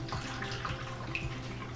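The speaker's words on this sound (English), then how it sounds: "Now put about an inch of hot water in this larger pan" Hot water is poured into a larger baking pan to make a water bath around a bread pudding dish, a steady splashing trickle with small gurgling bursts, close and loud.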